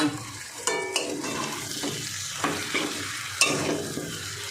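Fried potatoes and onions being stirred into mutton curry in a pan, thick wet scraping and mixing over a low sizzle, with a few louder clanks of the spoon, close and unaccompanied by speech.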